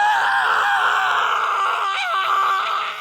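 A person screams in agonising pain, a sustained, strained vocal cry that holds loud and wavering for several seconds with small pitch breaks.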